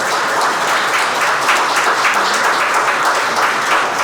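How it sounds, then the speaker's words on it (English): Sustained audience applause for a startup panel, dense steady clapping from a room full of people throughout, fairly loud and even with no pauses. "So let's give a round of applause for our panel."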